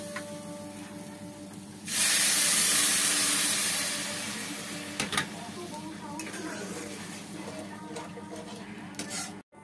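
Measured water is poured into fried rice in a pot for pulao, setting off a sudden loud burst of hissing steam that fades into a bubbling sizzle, followed by a few clanks of utensils.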